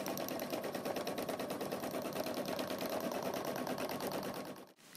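Sewing machine stitching a straight line guided by a cable-pattern reel ruler, a steady fast mechanical chatter running continuously at close range before stopping abruptly at the end.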